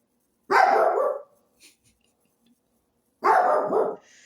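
A poodle-type dog barks twice, nearby and fairly loud, each burst a run of rapid barks roughly three seconds apart, with near silence between them.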